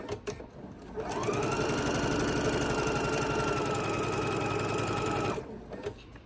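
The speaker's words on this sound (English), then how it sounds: "And then we'll sew that on the diagonal line." A sewing machine stitches quilt binding along a diagonal line. It starts up after a moment, runs at a fast, even, rattling pace for about four seconds, then stops.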